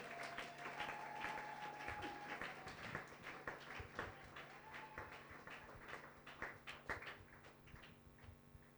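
A church congregation applauding, a steady patter of many hands clapping that grows into sharper, more distinct claps, heard at a moderate distance over a faint sustained organ-like tone.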